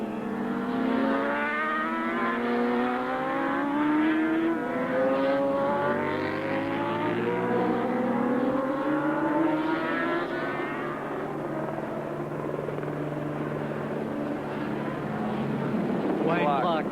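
Yamaha and Honda racing motorcycles and superbikes, including a Grand Prix Honda, in a 1986 Swann Series race: engines rev hard with rising and falling pitch sweeps as the bikes shift gears, heard under continuous commentary.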